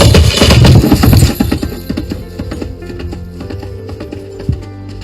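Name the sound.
horse hoof sound effect for the film Ponniyin Selvan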